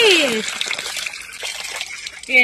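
Borewell water flows out at a farmhouse near Mysuru, a steady rush and trickle that sits between bursts of nearby talking voices.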